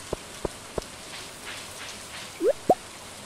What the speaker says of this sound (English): It's raining, bro.